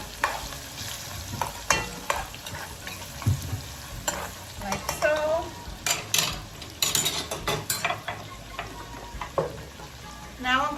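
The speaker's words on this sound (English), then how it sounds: "I'm just going to give it a mix so I can try to break up the onions a little bit" Roughly chopped onion sizzles in a pan while a spoon stirs it, producing repeated scraping strokes and clacks against the pan over a continuous frying hiss.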